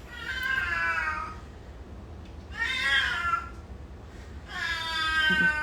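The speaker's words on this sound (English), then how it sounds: "That's just my cat." An old cat meows three times in long, drawn-out, somewhat wailing calls separated by short pauses, close and fairly loud over a low steady background hum, with no talking.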